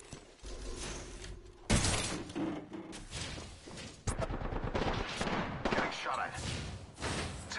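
Heavy gunfire in the video game Morder, with dense bursts of shots and impacts that jump louder near the start and midway through, continuing steadily under background game sounds.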